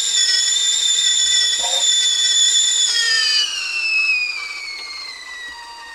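A kettle aboard a narrowboat whistles loudly and steadily, its shrill tone sliding slightly lower and fading toward the end.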